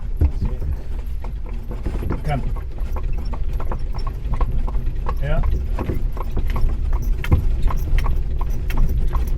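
Steady clip-clop of horse hooves on pavement pulling an Amish buggy, with a rolling mechanical rattle underneath and a brief spoken remark.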